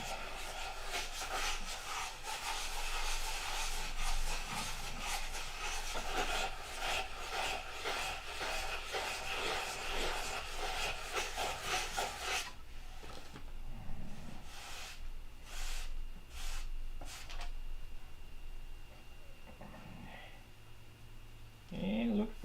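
Rough shaping of a model airplane part with sandpaper, a loud steady rasping scrub for about twelve seconds, then a few separate short strokes and quieter handling.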